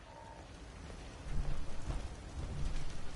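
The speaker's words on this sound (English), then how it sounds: "Hope this rain lets up soon." Steady rain with low rumbling thunder in the Fallout 4 game, a hissing downpour with deep booms swelling midway, no talking.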